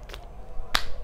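A few sharp, isolated hand claps, close and dry, spaced irregularly over about a second.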